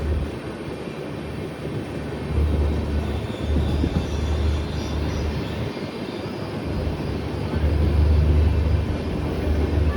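Steady rumble and rolling roar of a passenger train departing Tiruvallur station, heard from a window seat inside the coach, with low swelling surges and no talk.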